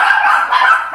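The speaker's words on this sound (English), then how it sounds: "The dogs are bugging out of my house" Dogs barking inside a house, a loud, steady stretch of close yapping and barking that fills the whole moment with no talking over it.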